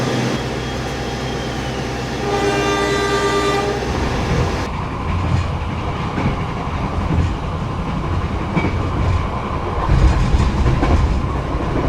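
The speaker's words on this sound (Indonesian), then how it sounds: "Nah, ini dia kecepatan kereta api Kalikung." An Indonesian passenger train rolling steadily on rails, a loud continuous rumble with a sustained horn-like tone early on before the clatter takes over.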